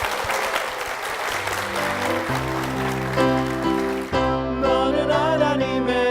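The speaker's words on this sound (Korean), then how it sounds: "먼저 목사님과 교회를 위해서 큰 박수 부탁드리겠습니다." A church congregation applauds in a dense, even burst of clapping that fades as instrumental music swells in and carries on alone.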